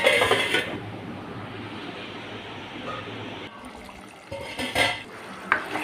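Chicken and potato pieces stirred in a cooking pot with a spoon, giving scraping and clinking strokes against the metal over a soft sizzle, with a few sharper knocks near the end.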